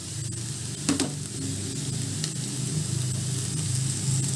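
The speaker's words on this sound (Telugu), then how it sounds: "అవిసెక్ కూడా వేసి ఇందులోనే వేయించుకుందాము." Flaxseed leaves (avisaku) frying in a pan, giving a steady close sizzle with soft stirring scrapes and a brief clatter near the start, continuous throughout with no talking.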